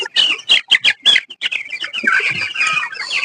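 Broiler chickens in a coop cluck and chatter nearby, opening with a run of short rhythmic clucks and blending into overlapping, continuous calls from several birds.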